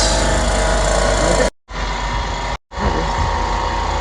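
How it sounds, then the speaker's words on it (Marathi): A car engine idles steadily right after starting on the first crank of the self-starter, despite a weak battery, with a loud continuous rumble close by, broken by two short silent gaps. "एक सेल्फ स्टार्टमध्ये गाडी चालू झाली लगेचच"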